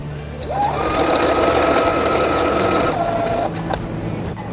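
A box maker machine runs a pedal-driven test, starting with a rising whir and then holding a steady mechanical hum and clatter for about three seconds before it winds down and stops.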